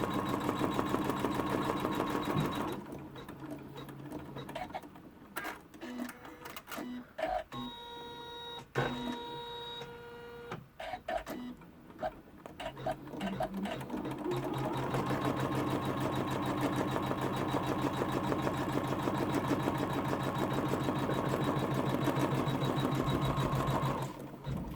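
A computerized embroidery machine stitches to tack cork down on an in-the-hoop notebook cover. Close, rapid mechanical whirring drops to sparse clicks and brief runs partway through, then resumes as a steady buzz.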